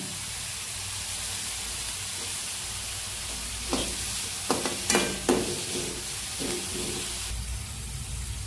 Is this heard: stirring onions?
yes